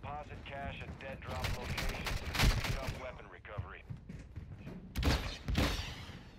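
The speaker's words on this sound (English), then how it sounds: "Unless it's just bots shooting each other." Video game gunfire from bots shooting each other in Call of Duty DMZ, with bursts of shots scattered through the clip and players talking over them.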